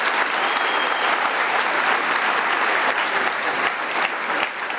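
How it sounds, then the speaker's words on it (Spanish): A church congregation claps steadily in dense, sustained applause at a worship service, filling the room evenly for several seconds before easing slightly at the end. "dale un aplauso a Dios con todo tu santo corazón."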